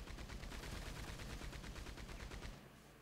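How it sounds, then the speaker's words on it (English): Rapid repeated gunshots fired at a body in Red Dead Online, a fast even string of blasts for about two and a half seconds before stopping, dense and close but fairly low in level. "I'm shooting the body."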